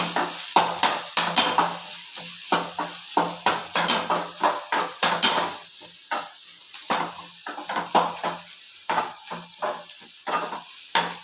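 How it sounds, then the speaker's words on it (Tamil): About ten garlic cloves fry with onions in a hot pan, a loud close sizzle broken by rhythmic spatula scrapes and stirring strokes that repeat steadily, with no voice over it. "ஒரு 10 பல் பூண்டு போட்டு உள்ளியோடு சேர்த்து நல்லா வதக்கணும்."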